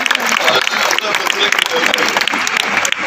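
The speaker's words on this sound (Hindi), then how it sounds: "तालियां और बजाओ जरा मेरे" An audience at a Hindi poetry recital claps, a dense, continuous burst of applause from many hands lasting a few seconds at close range.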